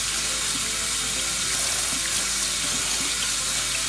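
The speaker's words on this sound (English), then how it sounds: "So we're just gonna wash these potatoes off." Tap water runs steadily over potatoes in a kitchen sink, a continuous close splashing hiss that holds level throughout with no talking.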